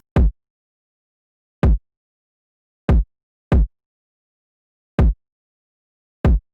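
Six deep, booming kick drum hits in an irregular syncopated drill beat pattern, each with a punchy attack and short decay, separated by silence.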